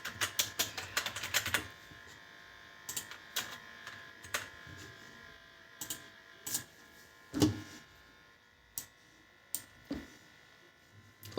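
Keys clack on a computer keyboard while someone types Dart code for a Flutter app, starting with a quick burst of presses and then continuing as scattered, irregular clicks over a faint background hum.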